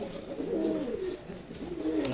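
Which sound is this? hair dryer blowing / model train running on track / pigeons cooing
pigeons cooing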